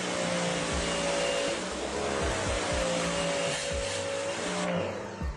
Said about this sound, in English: listen to the pressure washer when I'm pressure washing